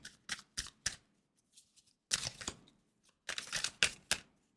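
Tarot cards being shuffled by hand, in several crisp bursts of riffling and snapping separated by short pauses, close and fairly quiet with no talking.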